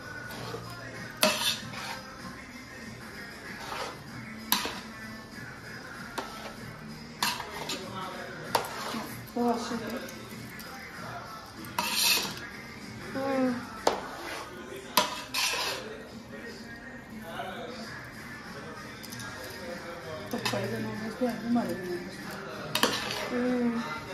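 Biryani being stirred in a metal pot, with repeated clinks and scrapes of a serving spoon against the pan at an irregular pace, close by, while voices talk in the background.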